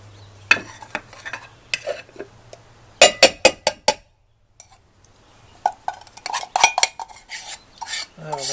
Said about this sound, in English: I got to fluff up the rice.